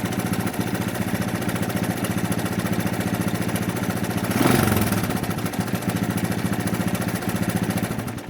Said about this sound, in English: She's a little noisy, especially sitting right next to the engine like this.